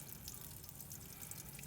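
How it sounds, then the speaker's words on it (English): Water drains from an RV's water tanks through a tank drain valve under the bed during winterizing, giving a faint, low trickling and dribbling with small drips, steady and quiet. "I am draining my tanks."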